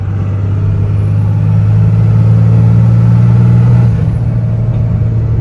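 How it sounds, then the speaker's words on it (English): Cummins diesel pickup fitted with an S&B cold air intake pulling hard in fifth gear: a loud, steady low engine drone with a high turbo whistle riding above it, heard from inside the cab. "I feel like I hear a little bit more of like an actual turbo sound."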